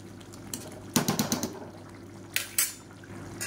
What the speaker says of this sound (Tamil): இப்போ நல்லா அடியிலேருந்து ஒரு தடவை கிளறி விட்டுக்கோங்க.